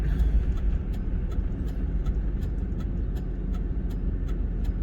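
A Ford F-series pickup idles and creeps toward a parking lot entrance at a traffic light, giving a steady, close, low engine rumble with road noise and no talk.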